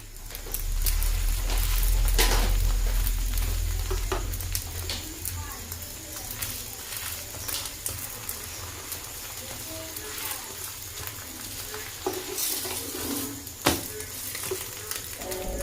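An egg omelette sizzles and fries in a pan at home, a steady close crackle with occasional clinks and stirring sounds, and a voice speaks briefly over it.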